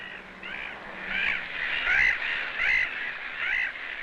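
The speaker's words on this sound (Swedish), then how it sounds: "Men titta, vad är det för liv på fåglarna?" Several crows caw in repeated harsh bursts, some overlapping, at moderate distance and sounding agitated. Steady low background noise sits beneath the calls, with no talk.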